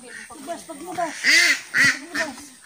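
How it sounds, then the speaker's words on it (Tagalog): Ducks quacking close by, several loud nasal calls in quick succession, with people talking faintly underneath. "Ayan yung mga pato."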